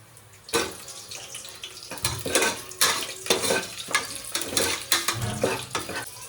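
Whole spices and cashews fried in mutton fat for biryani: close sizzling with repeated bursts of stirring and scraping in the pan, irregular and fairly loud.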